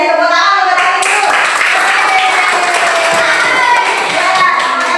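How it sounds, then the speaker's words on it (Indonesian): Schoolchildren clapping for a classmate in a classroom, a loud, steady round of applause lasting several seconds with children's voices mixed in. "terima kasih dari tepuk tangan buat Dani dulu"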